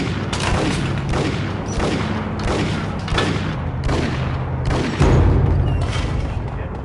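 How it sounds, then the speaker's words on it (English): Video-game gunfire in Max Payne rattles out in rapid, loud bursts aimed at the player, with repeated booming shots and heavy impacts across the whole stretch, and a voice is heard speaking beneath the shooting. "Hey, Stop shooting me."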